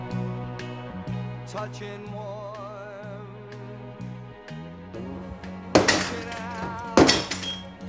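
Glass smashes in two sharp, loud bursts about a second apart, crashing over steady music that plays throughout.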